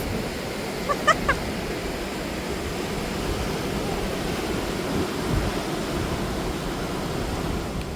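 Surf rolls in steadily on a beach, a continuous broad wash of breaking waves with some wind noise, and a couple of faint brief clicks early on, with no talking.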